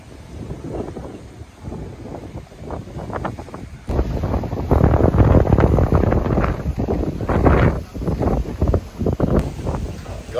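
Strong coastal wind in Playa del Carmen, Mexico buffets the microphone in rough gusts, growing louder partway through and staying turbulent, with a low roaring rush throughout.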